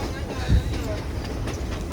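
A passenger train running on rails, heard from inside as a steady close rumble with faint rhythmic clicks throughout.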